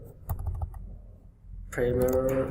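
Keys clatter on a computer keyboard while coding, a few soft taps followed by a quick close burst of typing, with a voice speaking over part of it.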